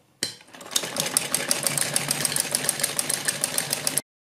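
A sewing machine stitches a seam on a kurti, starting abruptly into a fast, steady mechanical whir and clatter that runs close and even for a few seconds, then stops sharply.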